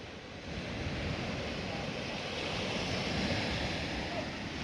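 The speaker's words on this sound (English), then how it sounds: "This is the sea, it's still going out" Sea waves wash along a beach on the coast as the tide goes out, a steady broad rushing surf with wind buffeting the microphone, fairly faint and continuous, without speech.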